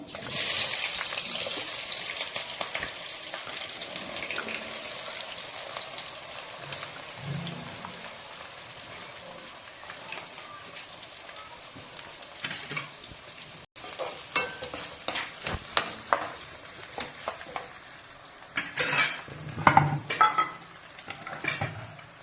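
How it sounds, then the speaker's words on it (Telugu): Onions, green chillies and curry leaves fry in a pan with a continuous crackling sizzle, louder at first, with frequent scraping stirs and clattering taps from a spoon toward the end. "ఆనియన్స్, పచ్చిమిర్చి, కరివేపాకు, ఇంకా ఆనియన్స్ వేసేసుకుందాం."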